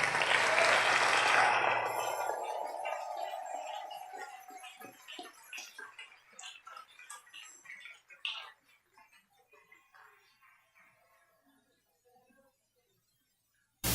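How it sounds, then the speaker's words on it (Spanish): A church congregation applauds, opening with a loud, dense burst of clapping that thins into scattered individual claps and fades to near silence. "Dale ese aplauso al Rey."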